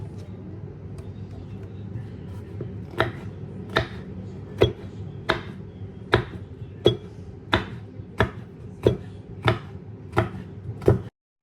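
A knife chops green and red capsicum on a cutting board, about a dozen crisp, evenly spaced chops growing steadier after a quieter start, close and clear over low kitchen background noise.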